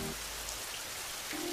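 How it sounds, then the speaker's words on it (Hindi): Steady rain falls heavily and close, a dense, even hiss of drops on surfaces that holds for the whole moment, with no voices. "मैं चाहती हूँ कि जल्दी ही बारिश रुक जाए"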